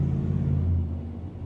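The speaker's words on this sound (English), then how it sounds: "People with these pipes on their cars work my everlasting nerves." A car with loud aftermarket exhaust pipes drones deeply and steadily nearby, swelling briefly then easing off slightly, with no voices.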